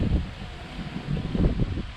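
Strong wind buffets the microphone outdoors while a DJI Mini 3 drone flies over Metro Manila, a steady low rumble with gusts that swell and fade throughout, without speech.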